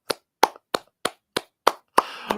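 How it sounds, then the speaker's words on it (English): One person claps alone, about eight sharp, evenly spaced claps, close up and clean, with a faint buzz of noise after the last few. "Round of applause for everyone."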